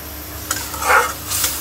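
Fish belly in spice paste is stir-fried in a pan, with a soft sizzle under a couple of scraping strokes of a utensil in a short, close burst, and no voices.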